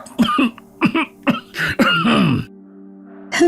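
Several rough coughs in close succession, loud and near, followed by a short pause and one more cough starting at the end.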